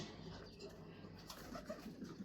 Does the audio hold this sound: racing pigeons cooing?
yes